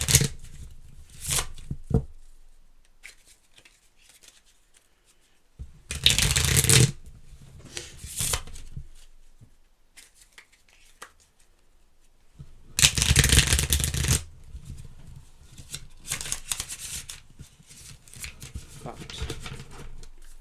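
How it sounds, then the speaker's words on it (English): Brisk riffle shuffles of a deck of cards come in a few loud, close bursts, separated by quieter handling and pauses. "So I'm gonna shuffle the deck"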